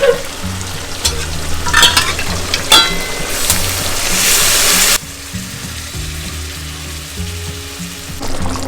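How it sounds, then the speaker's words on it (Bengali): Mutton stock poured into a pan of sizzling mutton curry, with a loud hiss and bubbling that cuts off suddenly to a softer simmer, stirring clinks, and no speech. "এবার আমি যেটা করব সেটা হচ্ছে এই যে মাটনের স্টকটা অ্যাড করব।"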